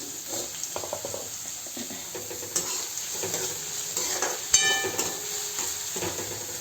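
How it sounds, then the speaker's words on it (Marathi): Onions sauté over high heat in a pan for Maharashtrian kande pohe, a steady close sizzle of frying with irregular scraping and stirring strokes from a utensil running through it. "कांदा छान असा परतून घेऊया आपण"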